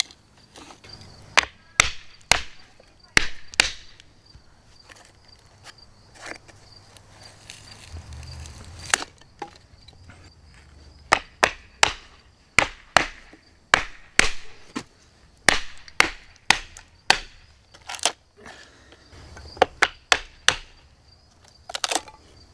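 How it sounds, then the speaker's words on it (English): Sharp, irregular thuds and cracks of a Kizer Little River Bowie knife blade stabbing down into thick wood logs, many impacts in bursts with short pauses, close and fairly loud. "stabbing down through some thicker wood, trying to get down through these logs"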